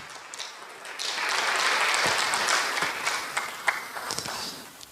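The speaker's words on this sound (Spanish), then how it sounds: "Un aplauso para él, porque se lo merece" Worshippers at a Spanish-language church service applaud. The clapping swells into a thick roar over the first two seconds, then thins into scattered individual claps as it fades.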